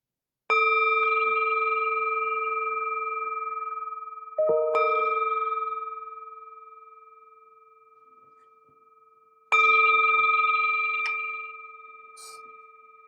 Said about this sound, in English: The sound of the bell returns us to our true home.